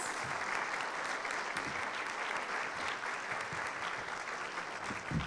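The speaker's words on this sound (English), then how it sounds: "I think they all deserve a round of applause" A crowd at a Ward 6 candidates panel applauds the candidates, producing steady, dense clapping that holds at an even level for the whole stretch, with no voices standing out.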